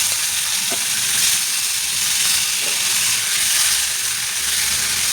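Black cumin and chopped tomato hit hot oil in a pan, giving a loud, steady close-up sizzle and hiss with faint stirring clicks throughout.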